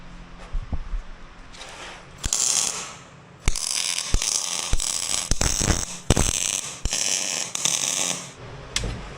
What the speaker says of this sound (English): we're going to go ahead and weld this up first